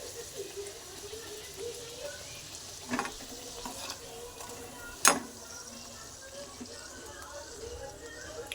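Puris frying in hot oil give a steady, fairly quiet sizzle throughout, with a few sharper pops and spatters, the loudest near the middle.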